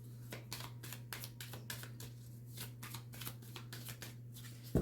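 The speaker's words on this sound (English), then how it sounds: "One more shuffle." Tarot cards are shuffled by hand in a quiet room, a rapid series of crisp riffling bursts with short pauses between, soft and close against a low steady hum.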